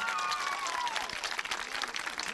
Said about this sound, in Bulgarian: Аплодисменти за отбор Абракс.